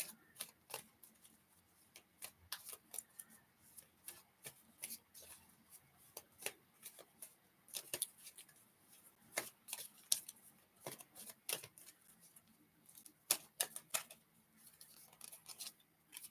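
Tarot cards being shuffled and drawn during a reading, a quiet, close run of irregular crisp flicks, slaps and riffles with small pauses between bursts.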